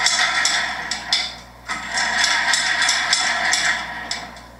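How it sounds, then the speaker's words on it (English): In a Boeing 737 MAX cockpit, the stabilizer trim wheel spins with a loud, continuous mechanical whirring rattle, punctuated by repeated sharp clacks at an uneven beat, with no talking. "That's what they sound like. Note the motion of the stabilizer trim."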